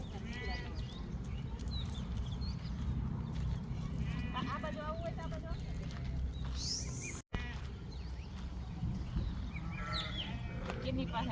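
Sheep bleating repeatedly as herders bring them and cows to drink water, some calls close and others farther off, mixed with people talking over a busy outdoor background.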